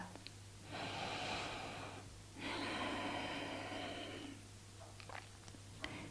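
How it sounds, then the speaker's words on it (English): Slow, deep yoga breathing: an inhale followed by a longer exhale, both soft, airy and close in an otherwise quiet room. "Feeling how the chest and the belly rises on the inhale and how chest and belly falls on the exhale."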